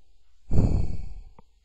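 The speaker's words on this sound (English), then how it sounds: "sorry, had a yawn." A single person yawns close to the microphone, a breathy, drawn-out exhale lasting under a second that tapers off, followed by a brief soft click in otherwise quiet surroundings.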